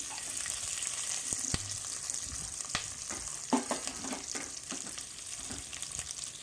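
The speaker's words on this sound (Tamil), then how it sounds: "கருவேப்பிலையும் சேர்த்து வதக்கி விட்டு காய்களையும் சேர்த்து வதக்கி" Curry leaves, mustard seeds and chopped vegetables sauté in hot oil for aval upma, a continuous close sizzle broken by the scrape and clatter of a spoon stirring the pan.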